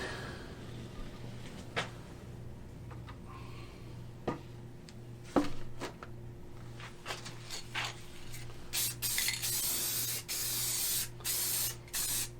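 Rust-Oleum clear lacquer is sprayed from an aerosol can onto carved maple in short hissing bursts, growing longer and louder toward the end, with faint handling clicks in between.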